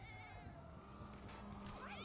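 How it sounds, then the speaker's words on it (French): A cat in the video game GTA 5 meows with a few rising and falling wails, faint under game sounds and a busy background. "Il miaule comme un fou frérot."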